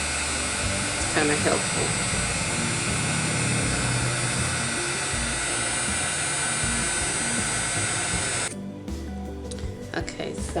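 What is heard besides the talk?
heating tool blowing hot air on paper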